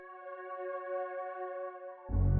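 Simple synth lead tracing the lowest notes of a chord progression, a steady clean tone held alone for two seconds before a loud low bass hit enters at the end.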